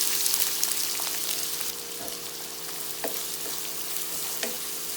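Onions, curry leaves and green chili fry in a pan for a chicken curry, a dense, even hiss of sizzling oil with occasional soft stirring taps.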